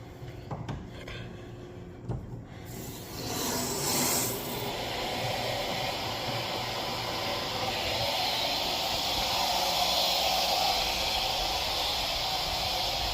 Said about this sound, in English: turn the cold water back on and let that run for a bit, try and clear out the bottom of this tank